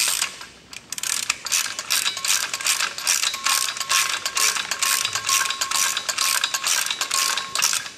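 A 24 mm nut being wrenched tight on an Aguilar Bernardoni intercep plough, giving a steady run of close metallic ratchet clicks and clanks that carries on for about eight seconds with no talk.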